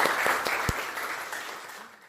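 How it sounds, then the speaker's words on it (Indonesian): Applause from a class of students, scattered claps fading over a couple of seconds, moderately distant and alone. "tepuk tangannya mana? Semangat ya"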